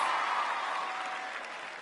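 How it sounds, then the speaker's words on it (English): Steady audience applause, a broad wash of many hands clapping at moderate loudness that tapers slightly, with no talk over it. "Give yourselves a round of applause."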